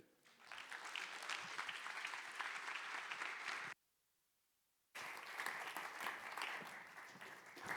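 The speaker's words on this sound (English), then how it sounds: "Let's have a big round of applause for our 5 design leaders discussing the state of design leadership." An audience applauds a five-person design leadership panel. Loud, dense clapping from a crowd breaks off abruptly into about a second of near silence, then resumes just as full and steady.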